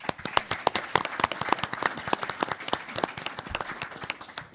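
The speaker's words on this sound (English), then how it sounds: "former public advocate Betsy Gotbaum, if we can give a round of applause." Audience applause for panelists at a New York City campaign finance panel, sparse and distinct individual claps in a steady patter from a modest crowd, close and clear throughout.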